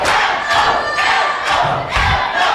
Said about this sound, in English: The crowd is rallying behind FO.